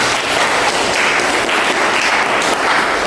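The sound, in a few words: classroom applause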